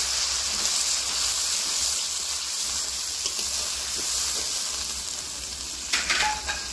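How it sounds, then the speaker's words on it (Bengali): Spiced water poured onto frying spices for a fish curry, a loud continuous hiss and sizzle with bubbling, close and steady, a brief clink near the end, no talk. "এবারে আমি মশলার জল দিয়ে দেব।"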